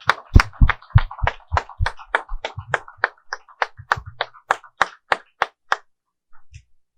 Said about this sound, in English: Can we have another round of applause for our special guest?